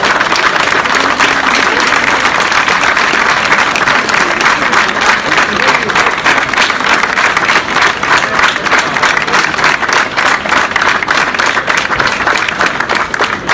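Loud, dense applause from a lawyers' convention audience at a Lahore High Court bar protest gathering, a steady roar of many hands clapping without pause, with crowd noise mixed in throughout.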